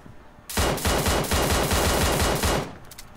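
Rapid automatic gunfire in PUBG Mobile, a loud sustained burst of evenly spaced shots lasting about two seconds, with no talking over it.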